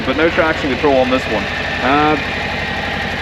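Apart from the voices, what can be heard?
Harley-Davidson Low Rider ST motorcycle engine idling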